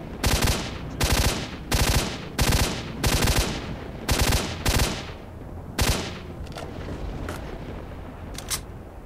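Rapid bursts of automatic gunfire from the shooter game S.T.A.L.K.E.R.: Shadow of Chernobyl, about seven loud volleys in the first six seconds, then quieter scattered distant shots.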